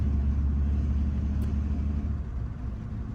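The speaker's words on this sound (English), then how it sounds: "it's kind of hard to hear with all the background noise on this truck" Steady low rumble of a truck's cab while driving, a constant loud drone with no breaks and no voices over it.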